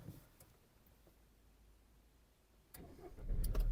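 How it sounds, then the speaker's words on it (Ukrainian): A Volkswagen Golf 5 engine cranks and catches near the end, a low rumble rising in loudness after a quiet stretch. "Давайте запустимо двигун."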